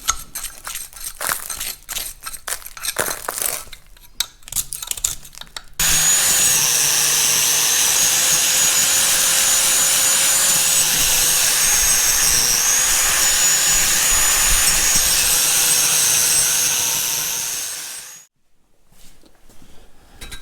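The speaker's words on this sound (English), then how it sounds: "we need to finish scraping all of this stuff off the back." Debris and gravel scraped off the back of a paper belt pulley from a Caterpillar D2 crawler tractor; after scattered scratching, a loud steady grinding roar from a power tool runs for about twelve seconds, then stops abruptly.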